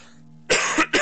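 A character in the horror adventure game The Last Door coughs harshly twice in quick succession, close and loud, after a brief low hum.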